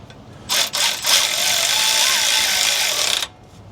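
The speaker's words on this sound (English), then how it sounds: "So now I'm going to take my ratchet. I'm just going to run it down." A Milwaukee cordless power ratchet running bolts down on a Jeep Gladiator Dana 60 axle cover, a short close whirring burst lasting about three seconds, with a brief stutter at the start and no talking.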